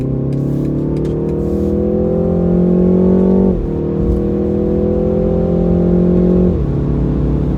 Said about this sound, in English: Especially in the higher revs, the higher RPMs there, it really gives a nice full note.